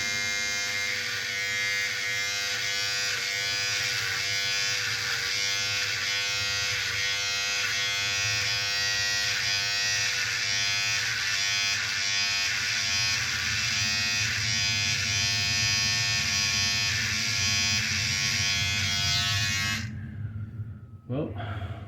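Electric hair clippers trim hair at home, a continuous close buzz with a steady hum that runs unbroken for about twenty seconds before cutting off abruptly.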